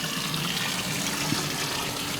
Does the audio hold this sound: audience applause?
no